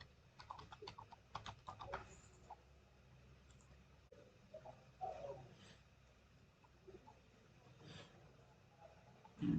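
Quiet computer keyboard typing a PIN during a Windows 11 setup in VirtualBox: a quick burst of light key taps early, then scattered single clicks with pauses, faint over a low room hum.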